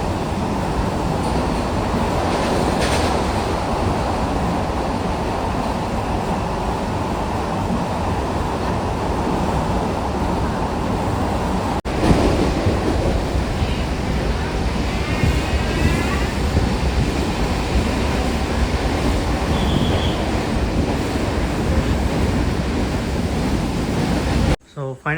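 A Mangaluru–Madgaon express train runs through a tunnel, heard from inside the train as a loud, unbroken low roar and rattle for about 25 seconds, with faint voices in places.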